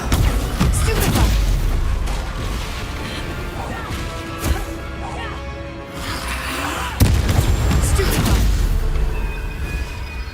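Stupefy spell blasts from Hogwarts Legacy land as loud crashing bursts, a strong one near the start and another around seven seconds, over a busy rumble of game effects and a shouting voice.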